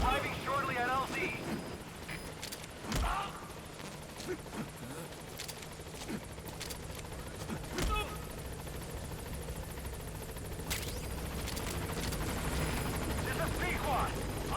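B-Quad, a helicopter in Metal Gear Solid V: The Phantom Pain, arrives at a landing zone as a steady, loud rotor drone with scattered game noises over it.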